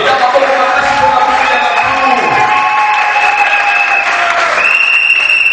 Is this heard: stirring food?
no